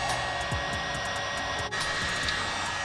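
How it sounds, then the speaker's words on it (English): Heat gun shrinking heat-shrink wrap on wire ends while installing an ethanol sensor on a Ford Focus ST, a steady close blower hiss with a brief dip partway through and no speech. "Got my heat gun out. Gonna shrink wrap the ends here."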